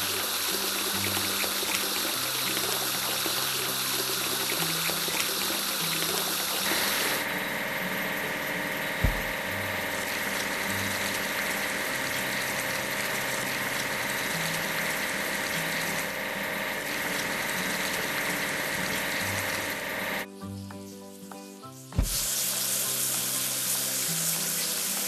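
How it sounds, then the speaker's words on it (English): A concrete mixer being washed down with water: a continuous rushing spray over a steady engine or pump hum, close and loud, with a brief break near the end before the flow resumes. "We need to wash the concrete mixer."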